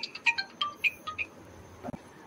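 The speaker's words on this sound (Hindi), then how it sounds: "हस्बैंड जी फोन कर रहे हैं।" A phone rings with a short melodic electronic ringtone, a quick run of bright beeping notes playing close and clear.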